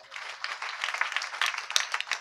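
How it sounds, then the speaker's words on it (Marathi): A short burst of audience clapping at a kirtan gathering, a scattered crowd of hands applauding briefly, moderately close and fairly soft. "टाळी वाजवा."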